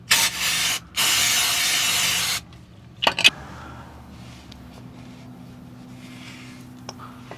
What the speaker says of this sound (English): just some brake clean.